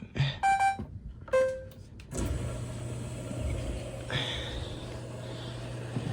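A few electronic beeps at the start, then a steady low hum joined by rushing water flow through a Maytag top-loading washer's cold water valve that strengthens midway, continuous and fairly close.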